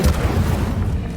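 An Incendio fire spell in Hogwarts Legacy, a short, heavy booming blast with a deep rumbling body that fades within about a second.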